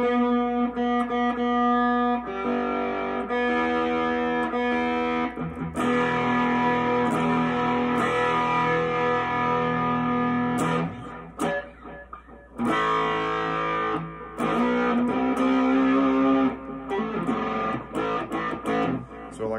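An electric guitar played through overdrive pedals set for a particular guitarist's style of tone rings out in distorted, sustained notes and phrases, with brief pauses and swells, and no talking.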